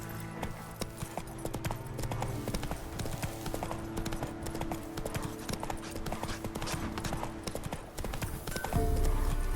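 Roach the horse galloping in The Witcher 3, a rapid, steady clip-clop of hooves close by, holding an even rhythm throughout with a brief shift in ambience near the end.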